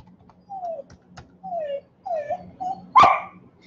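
A dog yips and whines in several short, high barks spread over a few seconds, ending with one louder sharp bark, near and alone over a faint steady hum.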